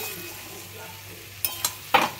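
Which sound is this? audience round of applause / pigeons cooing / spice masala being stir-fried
spice masala being stir-fried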